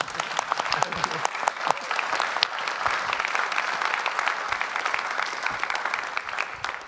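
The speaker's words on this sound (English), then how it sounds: "Sorry, I interrupted the applause." An audience at a cinematography panel on shooting with Sony Cinema Line cameras applauds steadily, a dense wash of many hands clapping throughout.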